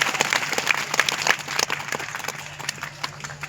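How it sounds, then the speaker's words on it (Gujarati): An audience claps at a village temple gathering, a dense burst of many hands that is loudest at first and then thins out toward the end. "એમના બધા માટે એકવાર જબરદસ્ત તાળી તો પાડો"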